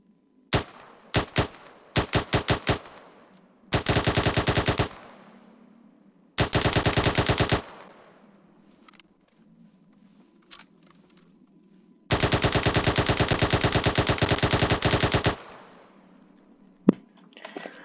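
Gunfire from an L86A2 RIS DMR in Arma 3: a few single shots, then several sustained rapid automatic bursts, loud and close, with short pauses between strings and faint background ambience.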